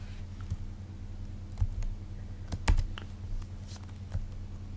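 Typing on a computer keyboard gives a quiet, irregular run of light key clicks over a low steady hum, with a few slightly louder taps and no talking.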